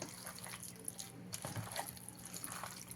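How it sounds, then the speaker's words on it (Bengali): Raw chicken is worked by hand with whisked yogurt and mustard oil, giving soft, wet squelches and faint sloppy drips close by, irregular and quiet throughout. "এবারে খুব ভালো করে চিকেনটাকে মেখে নিতে হবে"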